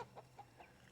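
Backyard chickens in a home garden give a run of soft, short clucks, very faint and distant beneath a steady background hiss.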